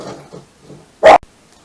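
Dog giving a single loud, close bark at a garbage collector, with faint indoor talk beforehand.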